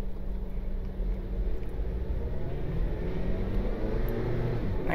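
A stock daily-driver car fitted with new camber bolts rolls along, a steady low road and tyre rumble filling the cabin without break, heard from inside with no talking.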